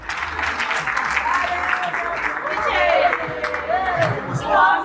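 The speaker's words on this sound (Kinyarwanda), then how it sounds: "ababona ko tuberanye mudukomera amashyi" Audience applause for a man introducing his sweetheart before a crowd: dense, steady clapping lasting the whole stretch, swelling slightly toward the end, with cheers and scattered voices mixed in.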